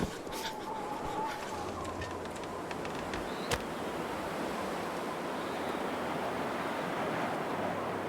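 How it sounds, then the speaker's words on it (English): Steady roaring blizzard wind in the survival video game The Long Dark, a dense, constant whoosh that holds at an even level throughout, with a single brief click partway through. "Oh, that's a nasty blizzard. And the wind just turned."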